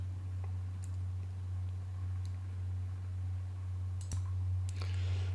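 A computer mouse clicks while selecting a wood-varnish material in Blender. A few sharp, sparse clicks sound against a constant low electrical hum and faint room noise.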